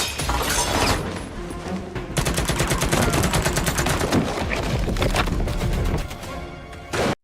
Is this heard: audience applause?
no